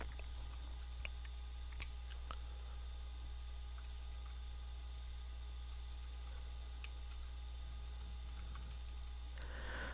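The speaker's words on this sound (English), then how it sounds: "I am done typing on the other side" Faint, scattered clicks of typing on a keyboard over a steady low electrical hum, quiet and close.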